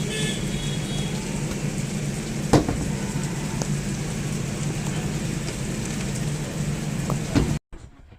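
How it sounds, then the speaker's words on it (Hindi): Steady, dense rain pours throughout, a constant broadband wash with a few sharper knocks, then cuts off abruptly near the end. "बारिश इतनी ज़ोरों शोरों की चल रही है"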